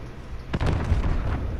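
An in-game explosion from Call of Duty Modern Warfare as a player blows up, a sudden close boom with a rumbling tail over a low background bed, no speech.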